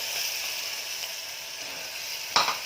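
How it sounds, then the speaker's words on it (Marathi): Flat beans (ghevda) sizzling and frying in hot spiced oil with turmeric, asafoetida and coriander, a steady close hiss broken by a brief louder stir-clatter near the end. "हे बघा असं छान मसाल्यात तेलात मस्त परतून घ्यायचं आहे 1 मिनिटभर"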